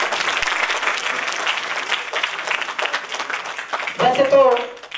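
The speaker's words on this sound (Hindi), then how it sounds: "एक बार जोरदार तालियों से एसएम न्यूज का हार्दिक अभिनंदन करेंगे" An audience at a public program applauding, a sustained burst of clapping with a voice speaking through it and rising near the end.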